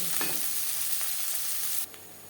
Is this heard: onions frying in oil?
yes